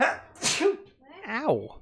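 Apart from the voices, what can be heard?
sneeze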